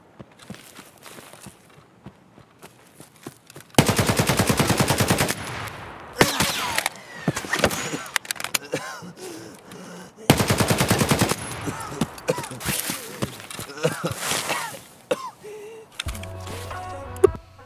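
Automatic weapon fire from a 7.62 rifle in the Escape From Tarkov shooter game: two long, loud sustained bursts plus shorter volleys and single shots, with quieter footsteps and movement between them.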